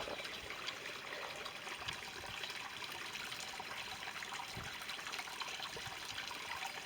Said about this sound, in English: Something so soothing and healing about listening to water, isn't it?